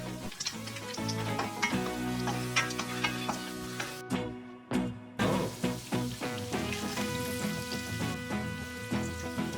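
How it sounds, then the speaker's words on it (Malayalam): Nuts and raisins fry in hot ghee and coconut oil in a pan for Kerala-style prawn biryani, a steady close sizzle with ticking pops and spoon stirs, broken by a brief cut to near silence. "ചൂടായതിന് ശേഷം നട്ട്സും ഉണക്കമുന്തിരി ഫ്രൈ ചെയ്തെടുക്കാം."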